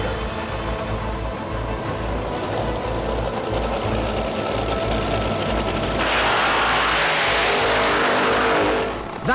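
A drag racing car in Abu Dhabi warms up its tyres, a loud raw engine roar with a rapid pulsing rumble that swells toward a harsher, brighter blast near the end before cutting off.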